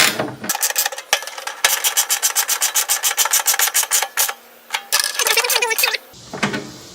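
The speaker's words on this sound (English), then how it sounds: "grab my 9/16 inch wrench and just snug it up" Rapid ratcheting of a 9/16 inch wrench snugging a bolt on a truck bed toolbox mount, loud close repeated clicking strokes in fast bursts with brief pauses between them.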